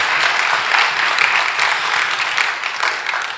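A church congregation claps steadily after worship singing, dense continuous applause that holds at an even, loud level throughout without any voices standing out.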